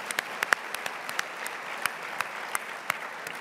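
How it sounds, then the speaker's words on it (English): Audience applause for award finalists at a state business awards ceremony in Arkansas, a steady wash of clapping with sharp individual claps popping out, moderately distant and continuous throughout. "Let's give all of our Category 4 finalists a round of applause."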